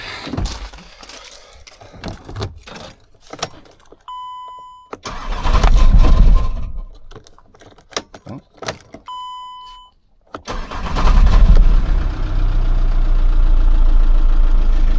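Car engine cranking and firing up on a newly fitted starter motor, with earlier clicks and rattles, then two loud starts around five and ten seconds, the second settling into a steady idle rumble with a chime heard between.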